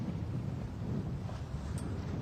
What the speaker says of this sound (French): On a 20 nœuds de vent. On a eu une houle de travers, mais le bateau est plutôt pas mal stable.